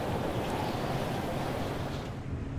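Wind roars from a windy portal in the driving game Pacific Drive, a steady, broad rushing gust that fills the short stretch with no voices.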